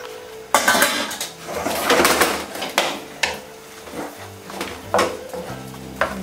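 Cooked spaghetti being tossed and stirred into a cream sauce in a pan with cheese and walnuts, a series of clattering scrapes and knocks of utensil against metal over a low hum, with no talking.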